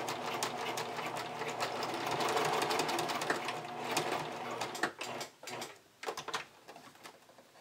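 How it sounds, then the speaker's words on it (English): A sewing machine runs steadily while stitching a bikini top strap, a loud, close whirring that then breaks into short stop-start bursts. "I'm going to attach it with two rows of stitching"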